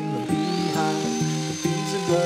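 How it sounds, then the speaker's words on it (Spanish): A handheld router cutting hinge slots into wood for a homemade barrister door, a high whining motor that dips and recovers in short repeated bites as the bit plunges into the wood, loud and close. "freso ambas ranuras a la vez sobre la línea y entre ambas marcas"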